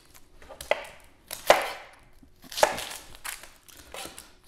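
A knife chops an onion on a cutting board while salsa is being made, with three distinct, crisp thuds spaced about a second apart, close and fairly quiet, with no talking.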